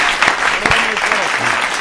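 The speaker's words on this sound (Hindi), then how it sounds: "तालियां बजा करके माहौल दे दीजिए।" Short burst of audience clapping at a Hindi comedy poetry show, loud and close, with a voice briefly audible over the applause.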